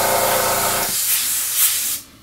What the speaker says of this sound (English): you can spray over it.